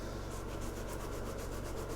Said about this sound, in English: You just dip the towel in here and you just scrub.